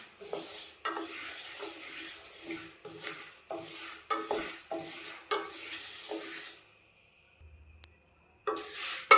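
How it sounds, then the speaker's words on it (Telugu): Urad dal roasting slowly in a pan over a low flame, giving a steady soft sizzle broken by scraping stirs and light clinks of a utensil, briefly dropping to near silence before the stirring resumes. "సిమ్లో పెట్టి నెమ్మదిగా వేయించుకోవాలి"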